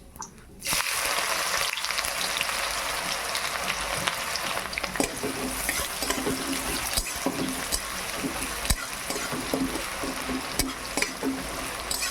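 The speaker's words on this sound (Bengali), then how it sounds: "পেঁয়াজটা খুব ভালোভাবে ভাজা হয়ে গেছে" Steady, crackling sizzle of onions frying in a hot pan with whole spices, with occasional sharper pops and faint clinks throughout, close and fairly loud.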